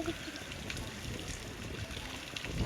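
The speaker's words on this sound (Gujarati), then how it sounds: "અને ભાઈ મસ્ત મજાનો વરસાદ ચાલુ થઈ ગયો છે." Steady rain falls with water running and trickling outside a house after a sudden downpour, a continuous close wash of splashing water with no voices.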